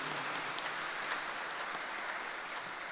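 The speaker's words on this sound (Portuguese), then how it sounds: "uma salva de palmas para Isadora" A church congregation claps for a young altar girl, a steady, soft, somewhat distant patter of many hands with no voices over it.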